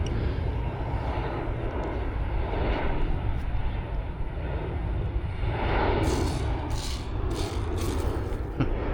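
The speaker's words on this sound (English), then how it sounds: "Carries a lot of speed for a small plane." A small E-flite Habu 50mm EDF RC jet rushes past with a steady whooshing ducted-fan roar, fairly loud, as it flies in to land.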